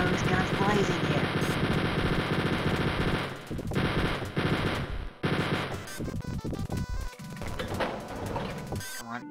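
Rapid, loud bursts of machine-gun fire in Wolfenstein 3D, shots rattling near-continuously for most of the stretch, then breaking into choppier gaps and scattered volleys toward the end, with game music or noise underneath.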